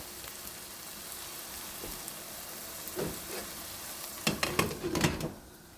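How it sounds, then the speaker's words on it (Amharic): Garlic and tomato fry in a pan with a soft, steady sizzle. Several louder stirring scrapes come near the end. "ትንሽ አሁንም ጥብስ አደርገዋለሁ ከቲማቲሙ ጋር"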